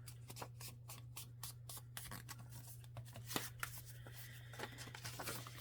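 Paper is handled and folded into a pocket for a crafting project, giving soft, close rustles and crisp creases in uneven bursts over a low steady hum, with no talk.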